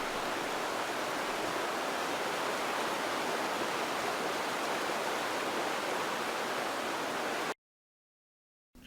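Steady broadband rushing water of the Metolius River in Oregon flowing near Lower Bridge Campground fills the clip evenly before cutting to silence near the end.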